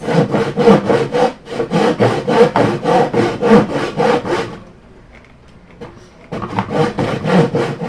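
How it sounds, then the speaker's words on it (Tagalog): A hand saw cutting through wood in fast rhythmic rasping strokes, close and loud, with a short pause before the sawing resumes. "Saan ka makakita babae naglalagari?"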